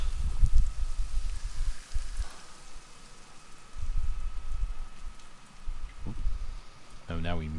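Steady rainfall in the video game Death Stranding, a soft continuous patter with low rumbling swells, and a voice briefly breaking in near the end.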